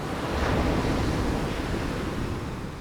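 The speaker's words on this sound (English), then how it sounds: "on the exhale, the waves retreat," Ocean waves wash against the shore in a steady, close broadband rush of surf, loud and continuous, swelling slightly early on and easing a little toward the end, with no voices.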